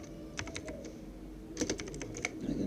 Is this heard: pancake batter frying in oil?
no